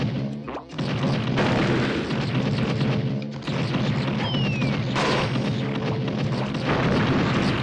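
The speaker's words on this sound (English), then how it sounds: "in here, we have some zingers, which I'm going to shoot" Zingers being shot in the Donkey Kong 64 level Fungi Forest, with booming, crashing blasts and bursts over a dense game soundtrack, loud and continuous with a few sharp whistling sweeps.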